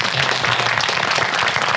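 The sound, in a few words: applause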